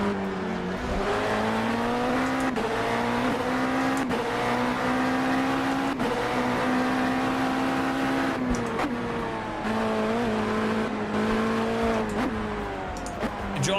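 A URD free formula race car in the Assetto Corsa racing game drones loudly and steadily, engine pitch holding high with brief dips around gear shifts, continuous from start to end with no talk over it.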